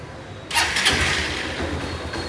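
A car engine cranks and catches suddenly after a quiet moment, then settles into a low, rumbling run that continues to the end.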